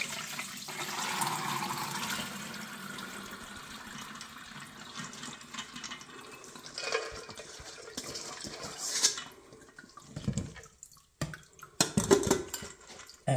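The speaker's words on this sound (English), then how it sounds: "now I'm going to drain them into another pot" Soaked split peas and their water are poured and drained into another pot, a steady, fairly loud gush of liquid that tapers into trickles and a few scattered splashes.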